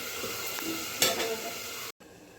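Ridge gourd curry sizzles and crackles in a pan as it is stirred, a loud continuous hiss with a brief burst before a sudden dropout, then quieter sizzling.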